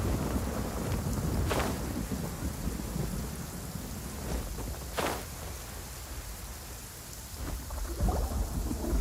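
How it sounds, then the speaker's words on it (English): A thunderstorm in Genshin Impact brings heavy, constant rain and several sharp thunder cracks spaced a few seconds apart over a low rumbling bed, loud and close, with no speech. "Actually, just got a thunderstorm."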